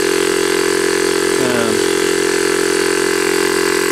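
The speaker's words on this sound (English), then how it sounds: "portable 12-volt compressor." A portable 12-volt air compressor with a freshly fixed cylinder leak drones steadily and loudly throughout, with a brief higher whine rising partway through.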